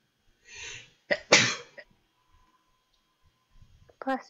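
A single sharp sneeze bursts out close to the microphone after a brief soft intake, followed by quiet pauses and a short spoken reply at the end.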